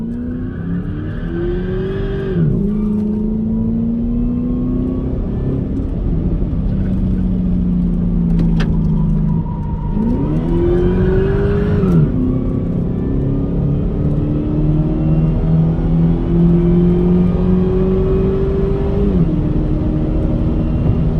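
A supercharged race car on track at The Bend screams past in close-up, its engine note climbing through gears with a couple of sharp upshift dips and then holding a loud, sustained high-rev drone.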